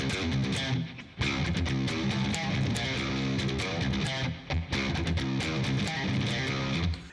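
Distorted electric guitar playing a lick at full tempo, dense rhythmic picked notes close and loud with short choppy breaks.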